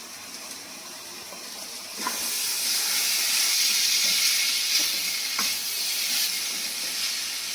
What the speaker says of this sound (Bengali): এর মধ্যে এই ঝিরি ঝিরি চিকেন চিকেনগুলো দিয়ে দেবো।